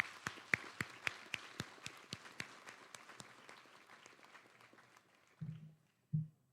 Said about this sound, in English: let's give all of those support individuals a round of applause.